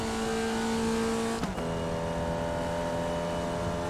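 Formula Vee race car engine in the iRacing sim at Summit Point Raceway, holding a steady drone that dips sharply in pitch at a quick upshift midway, then settles into a lower, continuous hum.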